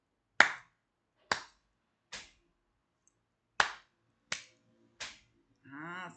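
Sharp, isolated hand claps and foot stomps in a pulse pattern, six crisp hits in two clusters separated by silence, close and clean, followed by a brief voice.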